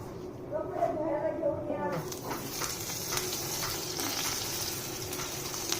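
Spiced, semolina-coated food fries in a hot pan with a steady crackling sizzle that swells after pieces are added, while someone talks over it at first.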